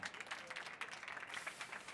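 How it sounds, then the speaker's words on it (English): Applause from an audience at the afternoon session of a technology innovation stage event, a short, faint, even wash of many hands clapping, heard alone without talk. "Please, big applause."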